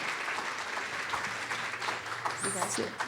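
An audience at an Arctic change talk applauds with steady, moderately quiet clapping from many hands, as voices and cheers mix in near the end.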